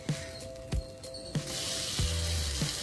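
Brinjal slices frying on a tawa over a medium flame give a steady, close sizzle, broken by a few soft bumps and clatters as pieces are moved or turned.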